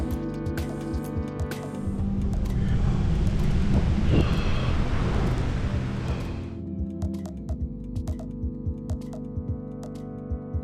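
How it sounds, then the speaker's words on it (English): Strong gusting wind buffets a cyclist's microphone on a ride near Old Willunga Hill and McLaren Vale, a loud roaring rumble that swells in the middle and eases off, with ticking clicks throughout. "I've known it to be windy, but this is a pretty special wind"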